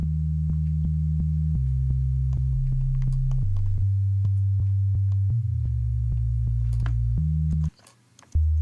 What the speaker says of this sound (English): So now we have 2 sine waves.